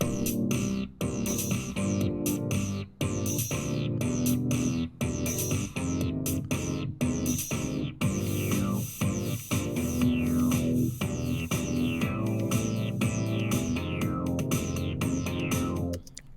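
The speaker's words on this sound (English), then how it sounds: "So my bass track sounds like this." An electronic bass line pulses steadily, punctuated by sharp rhythmic breaks, with layered synth tones and sweeping high textures running continuously throughout.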